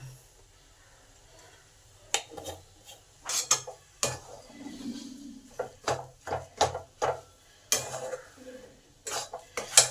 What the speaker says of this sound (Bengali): এই মশলাটাকেও ভালো মিশিয়ে দিলাম।